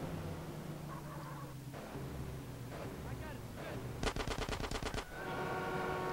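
Submachine gun fire from GTA San Andreas: a rapid burst of about a dozen sharp, loud shots lasting around a second, set amid game ambience and other effects.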